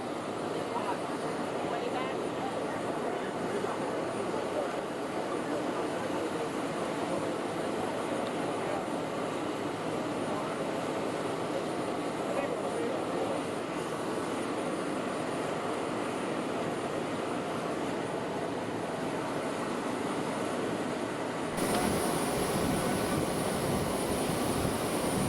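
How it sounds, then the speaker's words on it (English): A Boeing C-32 presidential plane arrives at Ellington Field, its jet engines giving a steady, loud, broadband roar that holds for the whole stretch and swells slightly near the end. "This C-32, a much smaller plane that can land without any issue both here at Ellington and in Ohio"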